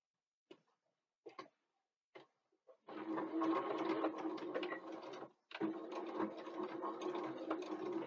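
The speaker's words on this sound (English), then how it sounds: "So we'll just go to the machine now and sew right across." A sewing machine stitches straight across the top of a pocket piece, starting with a few short bursts before settling into a steady, loud run that briefly pauses and then resumes, close by and with no talking.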